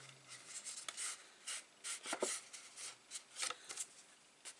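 Paper being handled and creased while folding a gusset over on a 6 x 6 mini flip album, a run of close, soft rustling strokes and scrapes in short bursts, with no talking.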